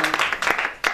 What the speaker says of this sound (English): Actually, nice to get an applause.